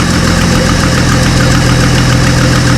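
A 1963 Ford Falcon Futura engine idles steadily and loudly up close, a continuous low rumble with a faint rhythmic knock running throughout.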